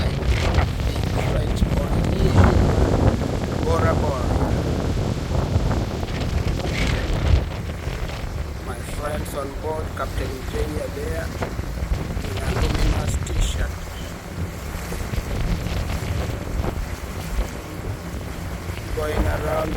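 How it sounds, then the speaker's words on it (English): Sailboat under way in a Bora Bora lagoon in French Polynesia, with steady wind rushing across the microphone and water washing along the hull, while people talk intermittently over the continuous, fairly loud noise. "this is how sailing looks like"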